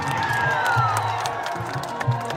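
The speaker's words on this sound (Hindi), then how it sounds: "तो एक जोरदार ताली संजय भैया के लिए हल्ला करके बजाओ।" An outdoor stage show crowd in Bhagalpur claps and cheers loudly and continuously, with whoops and shouts rising over the applause, dense and close.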